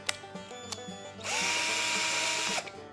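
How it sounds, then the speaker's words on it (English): A few light taps and clicks, then a power drill whirs loudly for about a second and a half before stopping, close by. "take this drill bit, make a nice little hole right there"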